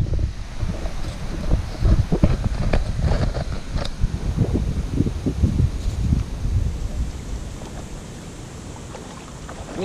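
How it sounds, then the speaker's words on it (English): Strong wind gusting outdoors at a dam, a steady loud low roar of buffeting wind across the microphone with some rustling, continuous throughout and easing slightly toward the end. "It's really windy today, like wind speeds of up to 27 kilometers an hour."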